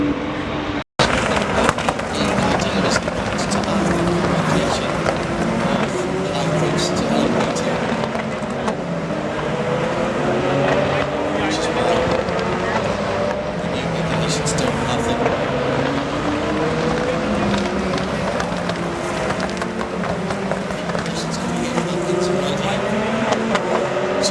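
GT3 race cars, including a Mustang GT3, racing in an IMSA event at Road America, engine notes sweeping up and down as cars pass under continuous commentary.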